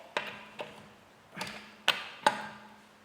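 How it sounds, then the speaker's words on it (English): Sharp metallic clicks from a 1/2 inch breaker bar tightening the wheel nuts on a Ford Mondeo Mk3, five distinct close ticks spaced unevenly over a few seconds with quiet between them. "I'm just going to whack them up evenly with my 1/2 inch bar"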